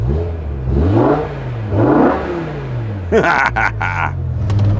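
A BMW E60 M5 engine runs after starting, with a deep rumbling idle that swells in a few slow revs, then a sharper burst of engine noise near the end.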